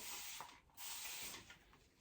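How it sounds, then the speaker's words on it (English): Short hissing bursts from an aerosol spray paint can, two or three quick sprays close by with a brief gap between them. "I'm just going to spray this over here"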